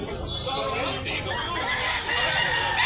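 Sweater breed gamecock rooster with yellow legs, at a Tabunok, Cebu sale, crowing and clucking amid a busy mix of other fowl and chatter, with people talking nearby throughout.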